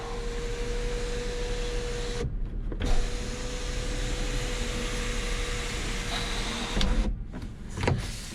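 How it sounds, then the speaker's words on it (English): The power moonroof motor of a 2015 Infiniti QX70 whirs steadily inside the car, stopping briefly with a clunk, then running again and halting with a couple of soft thuds, under a constant interior hum. "like this is your moonroof"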